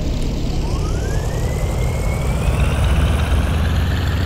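Engine number 4 of a WWII aircraft in the IL-2 combat flight game revs up while the plane is held on its wheel brake, a loud steady roaring drone with a whining tone that climbs in pitch as the throttle opens.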